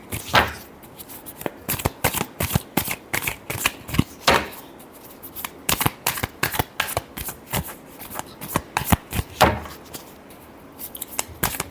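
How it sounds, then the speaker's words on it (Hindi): Playing cards are shuffled in quick, dense riffles during a tarot reading, with crisp papery flutters and snaps repeating steadily across the whole stretch, close and fairly loud, with no talking. "Last shuffle."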